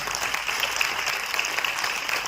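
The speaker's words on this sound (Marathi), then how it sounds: "तेव्हा या 4ही पुरस्कारार्थी जोरदार टाळ्या होत्यात" An audience at a music festival applauds four award recipients, a dense, sustained round of clapping from a large crowd that stays loud and even throughout.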